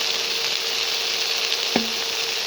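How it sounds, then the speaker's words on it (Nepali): Broad beans frying together with potato and onion in a pan, a dense continuous sizzle heard close up with one brief clank of a utensil near the end, no one speaking. "यो बकुलालाई पनि सँगै भुट्छौँ हामी।"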